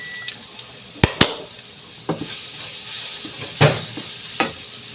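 Onions tipped into a hot pan give a few sharp sizzling bursts and clattering stirs, loud and close, with quieter background between.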